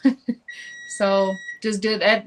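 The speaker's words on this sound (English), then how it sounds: "That's my alarm. Hold on." An alarm clock going off, heard as a steady electronic tone that holds for about a second beneath and between people talking.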